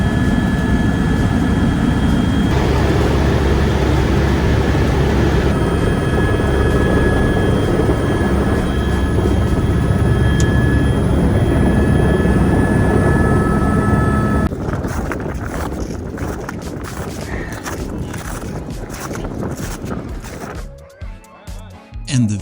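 Helicopter flight on a cruise excursion, a loud steady roar of engine and rotor heard from inside the cabin, holding constant before fading and breaking up into rustles and handling noise toward the end.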